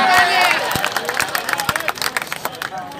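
Rally crowd clapping and cheering, a dense wash of applause with scattered sharp claps and a murmur of voices, loud and close throughout.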